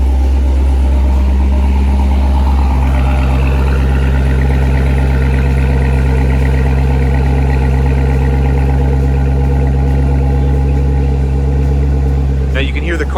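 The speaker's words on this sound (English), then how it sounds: "Now you can hear the car quiet down there." BMW E46 M3 engine idling after a cold start, a loud steady low drone that holds for most of the stretch, with the exhaust valves closing as it settles near the end.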